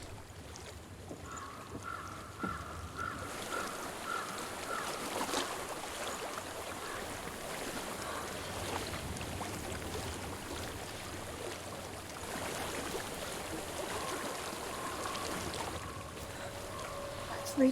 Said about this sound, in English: I hear water. Go to it.